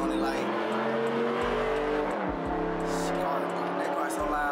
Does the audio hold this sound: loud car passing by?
yes